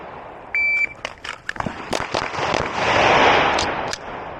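A Glock 47 pistol fitted with a Radian Ramjet fires a quick Mozambique drill at an outdoor range: a short beep, then a rapid series of loud sharp shots with echoing decay.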